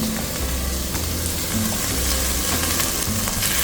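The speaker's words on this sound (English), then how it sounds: "we are gonna stir it until it's golden brown" Rice for Mexican red rice frying in a pan over a high flame while being stirred, a dense continuous sizzle with scraping stir strokes, close and loud, no talking.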